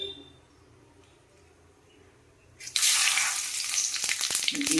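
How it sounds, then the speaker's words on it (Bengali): Cumin, bay leaf, dried red chillies and whole garam masala hit hot oil as a tempering in a home kitchen. A quiet room gives way to a sudden, loud, crackling sizzle that keeps going. "ফোড়ন দেব সবার আগে"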